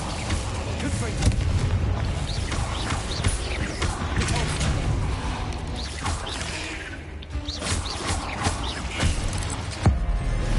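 Confringo fire spells exploding repeatedly in the video game Hogwarts Legacy, a dense run of booming blasts and crashing impacts filling the whole stretch at steady loudness.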